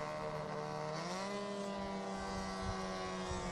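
Rallycross race cars, a 350-horsepower two-wheel-drive Porsche among them, launch off the start line at Twin Peaks in a Global Rallycross Championship race, with a dense engine roar whose pitch climbs as the cars pull away.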